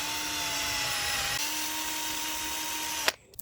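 A power drill whines steadily at high speed for about three seconds while drilling a hole in a log, then cuts off abruptly with a clunk, followed by faint clatter.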